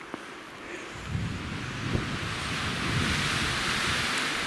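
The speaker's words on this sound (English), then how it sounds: "when the wind blows, blows all the snow down" Wind gusting through a cold snowy outdoor camp, a steady broad rush with gentle swells that loosens snow from above, continuous and fairly loud with no talking.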